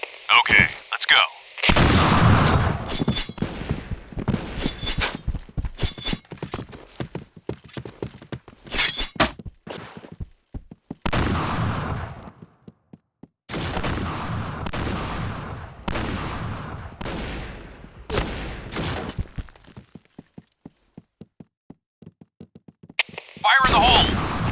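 Shotgun gunfire in the Point Blank video game, a rapid string of sharp, loud blasts in bursts with short gaps and quiet stretches between volleys.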